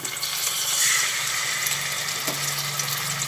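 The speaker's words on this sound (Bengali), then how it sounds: "কড়াই বসিয়ে তেল গরম করে নিয়েছি এরপরে কড়াইয়ের মধ্যে এক এক করে ভোলা মাছগুলো দিয়ে দিচ্ছি" Bhola fish, rubbed with salt and turmeric, frying in hot oil in a wok, with a steady bright hiss and crackle that runs continuously throughout, fairly loud and close, with no voices.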